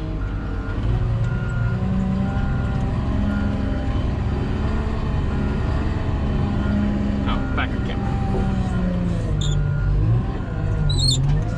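A Cat 938 wheel loader reverses while being loaded onto a trailer: a steady, loud diesel drone with repeated backup-alarm beeps and a few brief hisses near the end.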